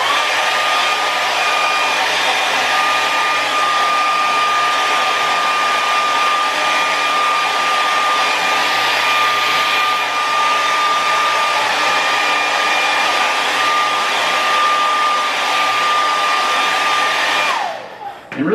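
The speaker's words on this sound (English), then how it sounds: "And then here's the blow dryer." A hair dryer blows steadily at close range, a constant whooshing roar with a thin high whine, running unbroken for the whole stretch before switching off.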